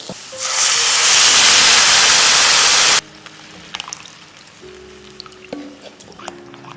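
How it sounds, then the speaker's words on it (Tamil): Dissolved kozhukattai batter hits a pan of sautéed onions with a loud, steady sizzling hiss that cuts off abruptly, followed by quieter clinks and soft cooking noises. "இப்போ நம்ம கரைச்சி வச்சுருக்கிற மாவு சேர்த்துக்கலாம்"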